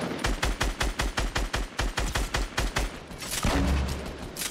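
Rapid automatic gunfire in Fortnite Battle Royale, a steady, evenly spaced stream of about twenty loud shots, then a heavier rumbling blast near the end.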